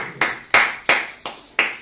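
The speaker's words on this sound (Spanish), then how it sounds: "vamos a darle palmas al Espíritu Santo" Church congregation clapping for the Holy Spirit, five sharp claps in a steady, fairly slow rhythm, each one bright and decaying quickly, with no voices.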